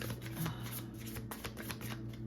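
Spirit Junkie oracle cards being shuffled: a soft, fast riffling flutter of card stock that repeats quickly and stays quiet and close, with a low steady hum beneath.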